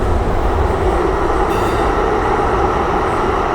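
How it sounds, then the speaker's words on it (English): A CTA Siemens U2 rail car on the Blue Line gives off a loud, steady DC traction motor roar and wheel rumble, heard close up and continuous with no talk. "You can really hear that DC motor now."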